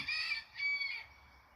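A small backyard rooster crows once, a faint, distant two-part call with a brief pause in the middle.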